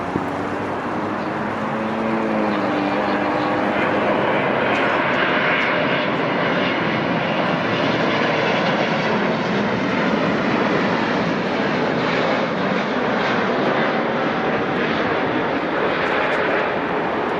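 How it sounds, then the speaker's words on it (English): A Boeing 777-200ER built in 1999 arrives at Newark airport, its jet engines roaring loud and steady throughout, with a broad rushing drone that slowly shifts in pitch as the airliner passes close by. "United 509 arrives from Rome with a massive Boeing 777-200ER."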